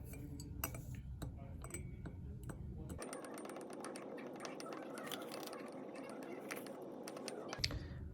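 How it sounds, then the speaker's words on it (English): Glass-bulb pH probe lightly clinking against a glass beaker in a chemistry lab, a series of quiet, sharp ticks and taps over a faint background hum, with some soft handling noise and no speech. "The probe has a glass bulb inside of it, and so I got to be sure not to clank it too hard against the beaker"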